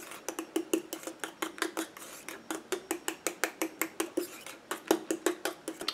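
A mixture is stirred briskly in a container, producing a close, regular train of clinking, scraping strokes at a quick, even pace throughout, with no talking.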